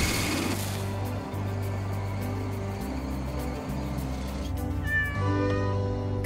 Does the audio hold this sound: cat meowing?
yes